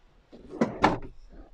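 Drawers opening and closing in a Roller Team Livingstone Duo XL camper van kitchen, with two close, sharp wooden knocks and slides at mid volume followed by a softer faint rustle.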